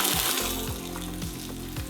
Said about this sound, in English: Let's see if we can get a sizzle. You hear that? We got a sizzle.